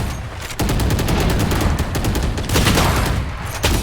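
Gunfire in a video game, with dense bursts of rapid automatic shots that start abruptly after a brief lull and continue almost without pause at loud volume.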